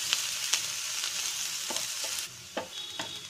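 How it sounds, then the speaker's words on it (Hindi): Onions frying in hot oil in a pan while cooking a spicy cucumber sabzi, a steady close sizzle with sharp intermittent crackles and stirring scrapes throughout. "जब हमारा तेल गर्म हो जाएगा तो हम उसमें अपनी प्याज को ऐड करके भून लेंगे।"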